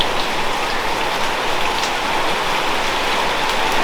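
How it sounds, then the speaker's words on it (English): Steady rain patters densely on a surface nearby, a continuous hiss of drops with no voices. "it's raining again"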